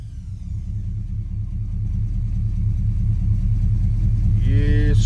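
A 1985 Chevy C10 engine, timing recently advanced, runs with a steady low rumble close by that grows slightly louder, and a voice briefly cuts in near the end.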